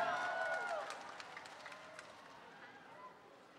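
A crowd claps at the El Shaddai DWXI PPFII 39th anniversary global celebration. A voice briefly carries over the start, then broad, fairly distant applause fades steadily to a quiet tail.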